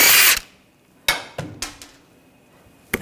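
A power tool removes the last lug nut from a 2007-2013 BMW X5 front wheel: a loud, close burst of whirring, then sharp clanks and metallic knocks spaced apart, ending in another short hit.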